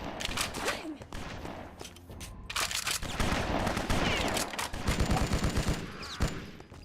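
A big gun fired in the BloodRayne video game, with rapid bursts of heavy gunfire in repeated volleys, loud and close, alongside game effects and no talk over it.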